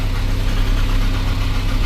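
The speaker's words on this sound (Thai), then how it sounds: "แล้วก็จะทำการสตาร์ทเครื่องยนต์" Car engine idling steadily after starting, a continuous low rumble with faint knocking, close and loud throughout, no voices.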